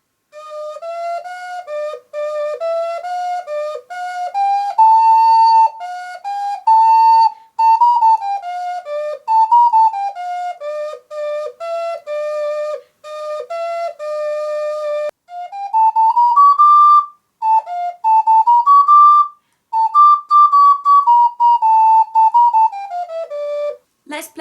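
An ocarina plays two slow melodies in a minor key, pure whistle-like notes rising and falling in phrases separated by short pauses, close and clear with no talking.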